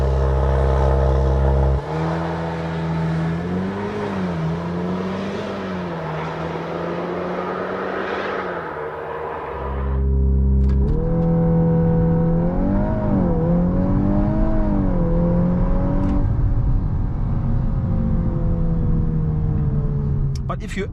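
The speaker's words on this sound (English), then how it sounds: "let's first check out how fast this car goes 0 to 100 with summer tires." Volkswagen Golf R on summer tires accelerating hard from a standstill to 100 km/h, engine note rising through gear changes with a brief drop at each shift, loud and close throughout.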